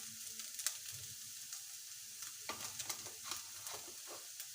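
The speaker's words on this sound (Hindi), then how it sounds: "चिकन भी अच्छे से देखिए फ्राई हो गया है" Chicken frying in a pan for a sandwich filling, a faint continuous hiss of sizzling oil with light intermittent scrapes as it is stirred, quiet and without speech.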